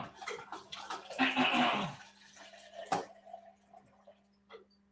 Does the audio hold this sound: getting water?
yes